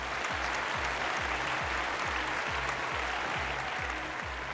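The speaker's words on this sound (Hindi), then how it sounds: "जोरदार तालियों के साथ स्वागत कीजिए ईशा जी की टीम से तान्या चोपड़ा का और वरुण जी की टीम से सिमरन अवस्थी का" An audience applauds to welcome contestants onto a talent show stage, dense continuous clapping at an even, loud level with a steady rhythmic beat of music underneath.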